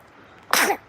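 A single sharp sneeze bursts out close and loud after a quiet moment, lasting about a quarter second before fading to silence.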